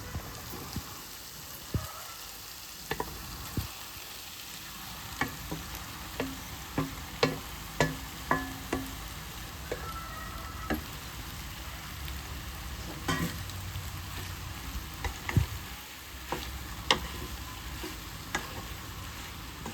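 Boiled pasta being tossed in a pan with masala and vegetables, a steady close sizzle of frying broken by repeated clacks of a spoon stirring, with no talking.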